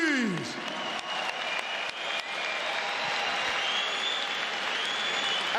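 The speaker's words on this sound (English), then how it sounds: "can I have a big round of applause for both fighters, please?" Arena crowd applauding both boxers after a ten-round professional fight, a dense, steady roar of clapping and cheering that swells and holds throughout, with voices mixed into the noise.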